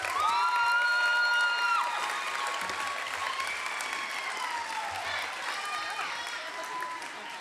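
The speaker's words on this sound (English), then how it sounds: "Let's give her a round of applause." Audience applause at a school awards ceremony at Heritage Academy in Mesa, a dense steady clatter of clapping lasting throughout, with cheering voices and whoops mixed in and a faint background voice.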